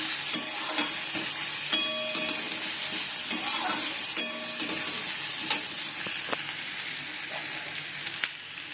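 Onions sizzle steadily in hot oil in a pan, close and fairly loud, with repeated sharp clinks and scrapes of a spoon stirring against the metal throughout.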